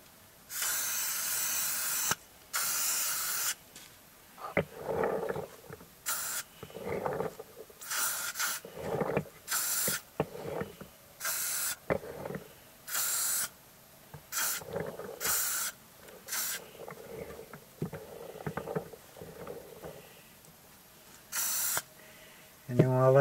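Aerosol spray paint hisses in repeated short bursts, coating a Tardis light switch cover white with packing tape masking its edges; bursts are close and loud, separated by brief pauses, with faint handling sounds between.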